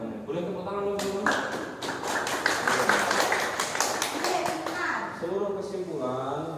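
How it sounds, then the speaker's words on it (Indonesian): A classroom bursts into applause, many small hands clapping in a steady patter for several seconds while children's voices chatter underneath. "Boleh tepuk tangan teman-teman?"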